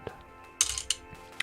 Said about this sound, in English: a giant bowl of glass rocks that you were just smashing around